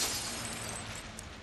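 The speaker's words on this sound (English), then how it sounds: "there's a gap here that'll let you reach the adjacent building by smashing through its windows" Glass windows shattering in the video game Tony Hawk's Pro Skater 1 + 2, a loud burst of breaking glass at the start that settles into a sustained crackling, noisy wash of falling shards.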